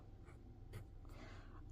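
Pencil scratching across paper while marking items off a list, a soft, close scraping with a couple of brief stroke bursts over quiet room tone.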